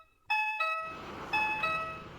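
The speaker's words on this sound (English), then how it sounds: "let me just wait for the train beep" A bright electronic train door chime in Minecraft sounds in quick tonal beeps, two short tones then a pause and two more, clear and close over a low rumbling hum.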